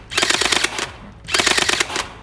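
An electric gel blaster M249 with blowback fires two rapid bursts, each a rattling string of close, sharp shots, separated by a short pause.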